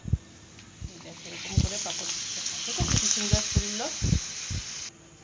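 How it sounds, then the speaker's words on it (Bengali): Papad frying one at a time in hot oil: bursts of loud bubbling sizzle rise and fade repeatedly, close by, with a voice talking at times over the cooking. "দেখো আমি এক এক করে পাপড় ভেজে তুলে নিচ্ছি"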